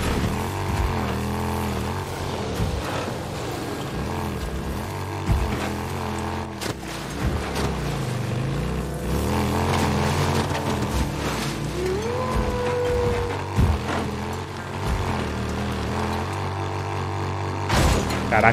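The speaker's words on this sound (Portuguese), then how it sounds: "Caraca, a moto tá muito rápida," A motorcycle engine roars steadily at high speed while riding in the Days Gone video game, a continuous loud drone with shifting pitch mixed with game effects and background sounds.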